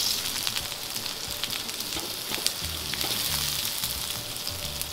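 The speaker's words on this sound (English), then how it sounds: "Then we saute garlic, ginger," Garlic, ginger and onions sautéing in a pan for seafood in coconut milk, a continuous loud sizzle with crackling pops and faint stirring, close by and without voices.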